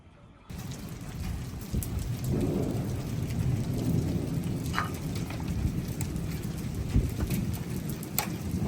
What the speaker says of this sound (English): Oh, look, this is hail.